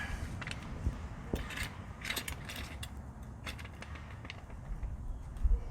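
A car jack is pulled down and set into position beside a car, giving metallic creaks, scrapes and light clicks, small irregular mechanical sounds over a low background rumble.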